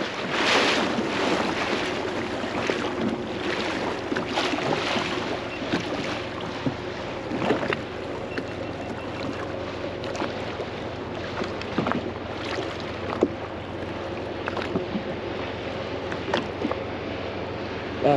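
Sailing yacht heeled and moving fast through the sea, with continuous rushing water along the hull, splashes and wave slaps, and steady wind buffeting the microphone throughout, no talking.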